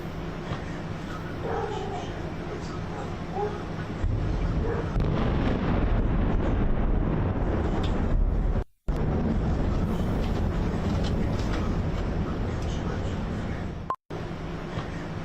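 Explosions echo over Tel Aviv at night as a sustained, heavy rumbling roar with wind buffeting the microphone, broken by brief dropouts.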